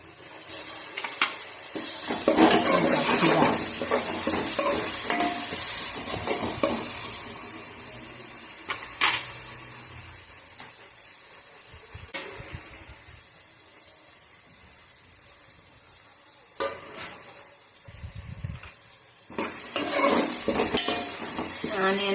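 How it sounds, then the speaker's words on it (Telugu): Onions frying in a pan for chicken curry, a loud sizzle with repeated stirring scrapes that comes in bursts, settles lower, then swells again near the end. "ఆనియన్స్ కొంచెం బ్రౌన్ కలర్ వచ్చేదాకా వేయించుకుందామండి"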